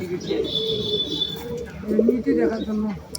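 Close, steady cooing from a flock of mixed-breed pigeons kept on a farm in Nilphamari, Bangladesh. Soft murmuring calls repeat through the whole stretch, with a fainter high chirp in the background.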